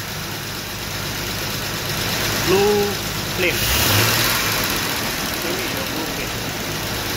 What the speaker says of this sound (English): so the engine is running